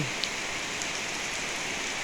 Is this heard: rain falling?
yes